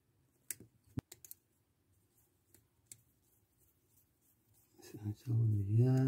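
A small electrical connector block being cut in half for a homemade radio antenna, giving a few sharp, close snips and clicks spaced over several seconds, then a louder rustling, handling noise at the end.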